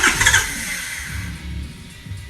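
A rebuilt engine cranks and tries to start, a burst of starter and engine noise at first, then settling into a lower, uneven mechanical rumble for a couple of seconds.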